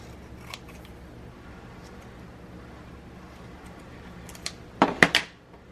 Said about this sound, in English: let me cut this out just a little better.